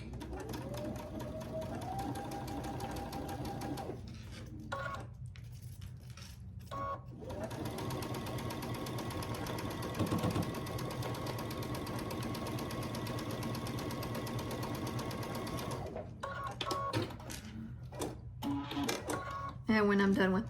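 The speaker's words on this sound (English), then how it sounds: "I'll just stitch down this side at 1/4 inch seam allowance" A domestic sewing machine stitches a quilt block seam at a quarter-inch allowance, a steady close motor whir with a fast needle rhythm running through most of the clip, briefly stopping and restarting.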